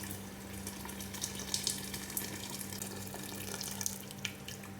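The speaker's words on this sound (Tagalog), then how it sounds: "Lagyan natin ng tubig na pangsabaw." Hot water runs from a tap into a cooking pot for beef broth, a faint, steady hiss and splash under a low constant hum with a few small spattering bursts.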